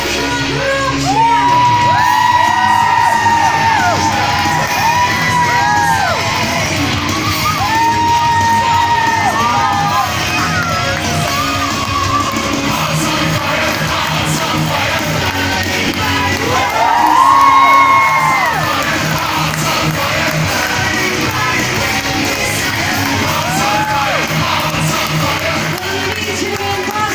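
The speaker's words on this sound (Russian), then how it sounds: "ведь у нас можно кричать, свистеть, хлопать, как можно громче!" Dolphinarium crowd at a seaside show shouting, whooping and whistling, with children's voices and rising whistle-like calls over a continuous roar of noise, peaking loudly midway.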